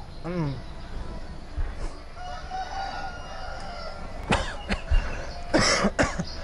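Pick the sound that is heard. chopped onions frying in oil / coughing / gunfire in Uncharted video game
coughing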